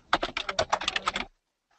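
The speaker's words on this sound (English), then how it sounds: "I'm just going to mute Joyce while she's typing." Rapid keystrokes on a computer keyboard sound close and crisp for just over a second as an irregular burst of clicks, then stop abruptly into silence.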